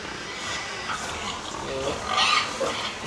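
Pigs grunt and squeal on a French intensive pig farm, scattered snorts and a sharper squeal in a noisy barn, with people talking over them.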